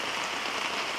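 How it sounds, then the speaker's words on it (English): Light rain falls steadily in a brief, even patter on outdoor surfaces at a group campout, a soft continuous hiss with no voices. "a little bit of rain"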